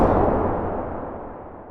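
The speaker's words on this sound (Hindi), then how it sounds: "जोर से धमाका हो जाता है" A loud, booming gas explosion that starts abruptly and rolls into a long, decaying rumble, with no voices.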